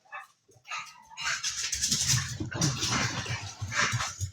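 A pet puppy barking indoors, a run of sharp yips and barks that is fairly loud and close, repeating through most of the moment with no talk over it.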